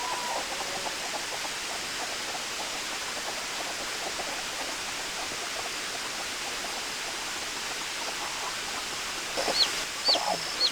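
Farm chickens cluck faintly in the distance beneath a steady, rushing wash of water-like noise. A few sharper calls stand out near the end.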